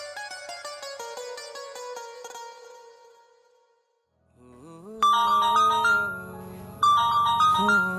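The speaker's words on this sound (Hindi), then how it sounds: "चल, आज मैं पहले सीमा को ही फोन करता हूँ।" A melodic electronic ringtone plays, fades out, then a louder phone ringtone starts up and repeats its tune.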